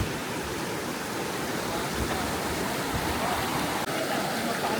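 Clear water of a stream at Waterton, Alberta rushes in a continuous broadband wash, steady and close.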